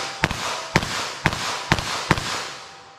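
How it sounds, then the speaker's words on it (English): Five sharp .22 Magnum handgun shots fired at a target outdoors, spaced about half a second apart, each a loud crack with a short ringing tail. "I'm just going to fire off some rounds."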